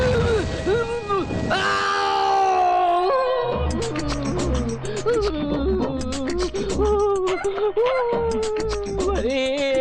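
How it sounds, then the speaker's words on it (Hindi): A man yells and cries out loudly as if in pain from burns in a hospital, his strained shouts rising and falling over a backdrop of comic film music, with other voices nearby. "ये क्या हॉस्पिटल में ऐसे चिल्ला रहे हो?"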